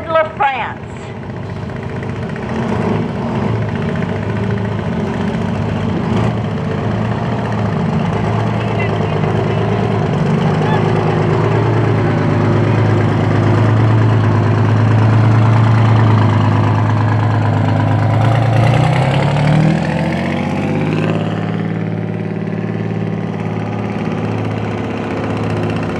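A 1973 Ward LaFrance fire truck idles nearby at a parade, its engine a steady loud low rumble that holds throughout, then drops in pitch and fades near the end.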